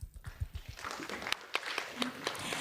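An audience at an international agricultural research symposium breaks into applause, a dense patter of hand claps that starts after brief low voices and builds and holds steady, heard from within a large hall.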